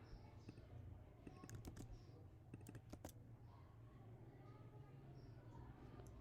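Typing code on a computer keyboard, with soft key clicks and short bursts of rapid keystrokes around the middle, heard under a low steady hum and someone speaking quietly.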